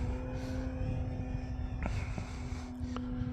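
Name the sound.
FMS Pitts model airplane flying, engine at full throttle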